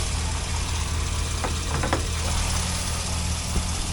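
A 2004 Chevrolet SSR with a 5.3L LM4 V8, in good running condition, idles steadily up close with a constant low rumble and a few faint clicks on top, no voices.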